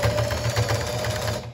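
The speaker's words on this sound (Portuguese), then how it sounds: "vou posicionando sempre ajudando, né, a máquina para sair a costura bem retinha" A sewing machine runs a steady, rapid stitch along the hem of a tricoline cotton dish towel, its needle chatter even and close with a faint motor whine, no voices.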